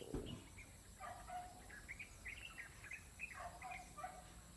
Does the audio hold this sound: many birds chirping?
yes